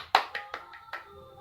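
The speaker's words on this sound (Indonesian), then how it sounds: "tepuk tangan" A few sharp hand claps at a children's Sunday school service, about five in a loose rhythm, close and clear with a faint ringing tail, no voices.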